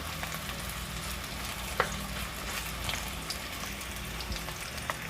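Onions fry in hot oil in a pan for a beef tripe callos dish, giving a soft continuous sizzle with a few faint clicks of a utensil, quiet and steady with no talk.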